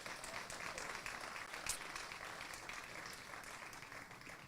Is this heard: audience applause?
yes